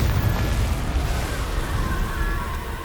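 A Confringo spell blast in Hogwarts Legacy, a loud sustained rumbling explosion with a heavy low roar that holds steady, close and alone.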